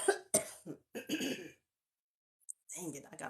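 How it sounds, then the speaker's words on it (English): A few sharp, close coughs from someone with head pain, followed by a pause and then a person speaking. "I gotta hold my head just to cough because it hurt."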